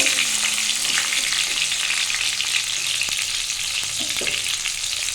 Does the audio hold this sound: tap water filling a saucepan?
no